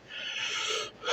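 A man breathes heavily and raggedly in a dark recorded setting, a steady harsh wheezy rush of air lasting about a second, loud and close, rising again at the end.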